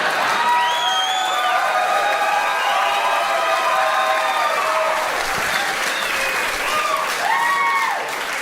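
Comedy club audience applauding steadily and loudly throughout, with scattered whoops and cheers rising over the clapping.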